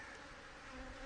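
Agitated honey bees pour out a dense, steady buzzing from an opened hive in need of requeening, a close, continuous swarm drone with no voices over it.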